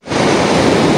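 Surf washes steadily onto Jimbaran beach in Bali on an evening shoreline, a loud, continuous roar of breaking waves with some wind rumble and no voices.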